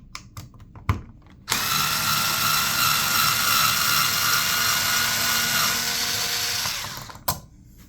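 A power screwdriver backs screws out of a wall switch plate, running as one sustained high whine for about five seconds, close and loud, with a few clicks and knocks before and after.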